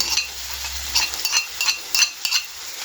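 Ground green chillies and garlic sizzle in a hot pan with soft stirring scrapes every half second or so, close and moderately loud, no talking.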